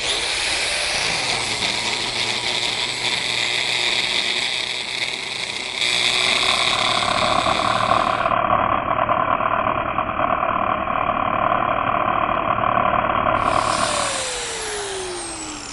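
An angle grinder fitted with a flap disc grinds steadily against rock, a loud, continuous whining roar that shifts pitch partway through as the disc bites, then eases off near the end.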